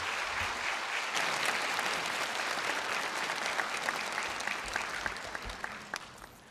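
A church congregation at a Sunday worship service breaks into sustained, dense applause that fills the room evenly and then slowly tapers off toward the end.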